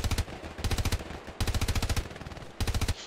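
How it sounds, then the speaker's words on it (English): Machine gun fire in the Hell Let Loose shooter rattles out in three loud, rapid bursts, each a string of closely spaced sharp shots separated by brief pauses, with no talk over it. "Machine gun, lay some fire on that down the hill."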